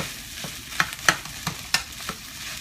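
Eggs being stirred into rice frying in a pan: a soft, steady sizzle runs throughout, broken by sharp scraping clicks of the utensil against the pan at an irregular pace. No talking.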